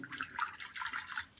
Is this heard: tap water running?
yes